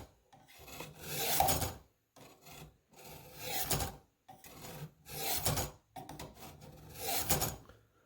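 A Spyderco Police knife blade is drawn through the coarse slots of a Warthog sharpener, giving about six rasping strokes in a steady rhythm with short pauses between them, close and fairly quiet.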